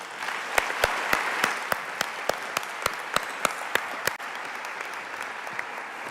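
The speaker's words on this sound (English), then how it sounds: "Please give a warm round of applause for Nombendulo Mkhatshwa." Audience applause at the Nelson Mandela Annual Lecture, a steady wash of clapping with a few sharp, evenly spaced claps standing out near the front, easing slightly toward the end.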